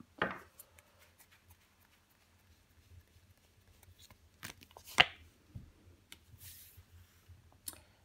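Tarot cards shuffled, handled and laid down on a table, a series of soft, faint papery slides and taps at an irregular pace, with a few slightly sharper snaps, without talk.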